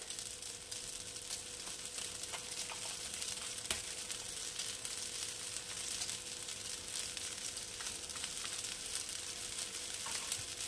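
Lemon vermicelli sizzling in a pan over a low gas flame, a soft steady crackle and hiss with faint scattered pops, quiet and unbroken by voices.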